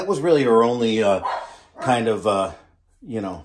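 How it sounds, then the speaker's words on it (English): Dogs barking indoors in a home office during a corner desk review, sharp yelps and barks mixed in with and following a woman's speech, fairly close and loud. "I apologize for the dogs barking."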